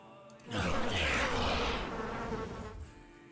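A bee-swarm spell cast in a fantasy tabletop-style video game battle gives a loud, dense buzzing drone that swells in suddenly and holds steady for about three seconds before easing slightly, with no voices over it.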